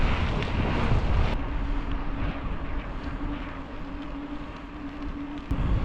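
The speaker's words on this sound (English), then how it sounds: "I'm riding into the hardest headwind of my life." Strong headwind gusts batter a cyclist, a dense roaring rush of wind noise that fills the whole clip loudly and steadily, alone without talk.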